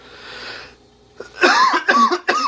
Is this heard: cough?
yes